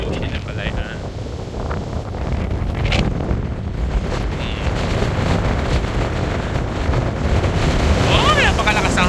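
Strong wind off the Pacific Ocean on the coast of Batanes, Philippines, roaring steadily into the microphone for the whole stretch, loud and buffeting, with distant surf underneath.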